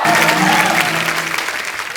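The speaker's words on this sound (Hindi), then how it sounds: "आपकी जोरदार तालियों के बीच प्लीज वेलकम वेरी ब्यूटीफुल" A studio audience at an Indian TV comedy show applauds to welcome a guest actress, a dense, loud, continuous wash of clapping that fades slightly toward the end.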